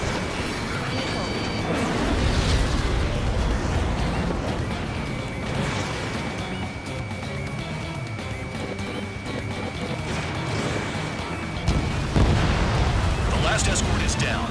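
Missile blasts in the jet combat game Ace Combat 7 rumble through a dense, loud mix of engine roar and game effects, with a fresh burst of impacts near the end and radio voices talking over the action.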